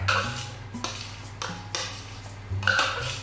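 Stiff egg white folded into cheesecake batter, soft repeated scraping and clinking of a utensil against a bowl in gentle strokes, close and steady with no talk.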